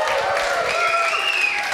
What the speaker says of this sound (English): proper round of applause this time for Thurston Moore